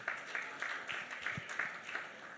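Faint, distant clapping from an educators' audience at a STEAM education week event, a thin scattering of hands in an uneven rhythm heard from afar.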